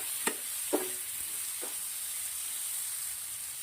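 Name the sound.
onions frying with garlic paste, hing and turmeric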